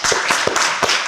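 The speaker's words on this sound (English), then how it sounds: "First founder up. Well, round of applause." Several sharp, separate claps ring out in an uneven rhythm, close and crisp, as a small audience greets the first founder at a startup pitch event.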